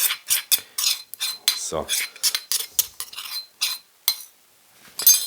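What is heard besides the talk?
stirring dressing into zucchini salad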